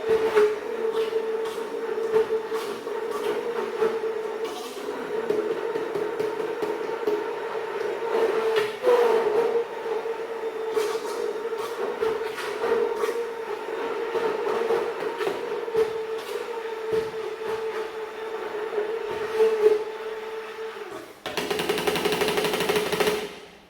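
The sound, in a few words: blender pureeing tomato sauce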